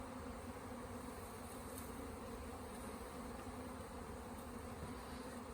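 A dense, steady buzzing of a small honey bee swarm, continuous and even in loudness throughout, with no voices.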